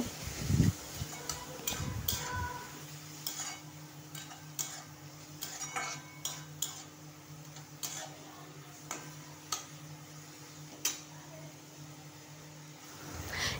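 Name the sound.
stirring pointed gourd curry with salt in a pan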